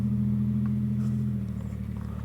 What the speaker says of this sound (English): It's a pickup truck.